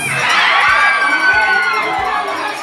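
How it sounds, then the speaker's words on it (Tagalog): Village crowd at a barangay bingo event in the province bursting into loud shouting and cheering, children's voices prominent, a dense sustained roar. "May sumigaw na meron ng nanalo."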